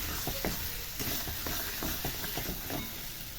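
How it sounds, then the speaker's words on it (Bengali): Fried potatoes being stirred with spice masala in a hot pan for a stingray curry, a steady sizzle under repeated scraping strokes of the spoon, close and continuous. "আলুগুলোকে দিয়ে আমি আবার একটু মশলার সঙ্গে নেড়ে চেড়ে নেব"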